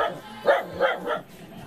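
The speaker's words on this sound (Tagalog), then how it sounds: "Uy, may aso." A dog barks three times in quick succession, sharp and moderately close, with faint background noise between the barks.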